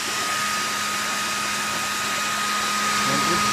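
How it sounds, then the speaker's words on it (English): A blow dryer motor runs close by in a steady, loud, airy whir with a faint tonal hum, and it holds unchanged throughout. "So now I'm running this blow dryer motor"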